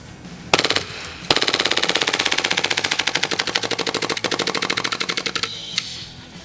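An airsoft gun fires a long full-auto burst at a watermelon about 25 feet away, a loud, rapid, evenly spaced rattle of shots after a couple of single pops, briefly broken once before trailing off.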